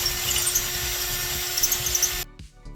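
Power drill with a number 6 wood bit boring out a 147-year-old J Rabone & Sons spirit level: a loud, close, steady high whine for about two seconds that stops abruptly, followed by faint clattering.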